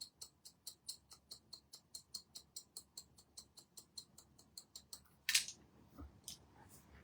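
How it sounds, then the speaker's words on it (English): Scissors snipping into hair with the points while softening a fringe edge on a short layered women's haircut, a rapid even run of crisp close clicks, followed by a louder rustle and a few scattered snips. "by going back over with the point of my scissors and also going vertical, I will just help soften that edge"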